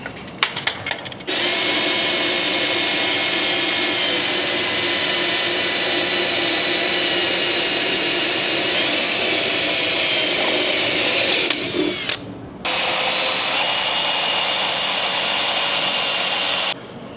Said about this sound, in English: I'm gonna get a small pilot bit loaded up here and get our first hole drilled.